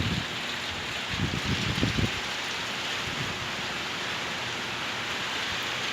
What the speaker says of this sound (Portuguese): E está chovendo